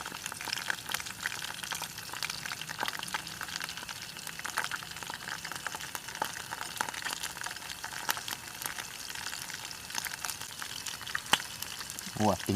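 Eel frying in oil over a campfire in a forest, giving a steady, faint crackling sizzle throughout with a brief louder sound near the end.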